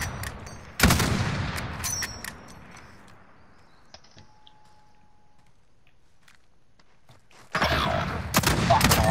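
Gunfire in a video game gunfight, with a loud burst of shots near the start and another near the end, and a quieter stretch between them of faint clicks and small movement sounds.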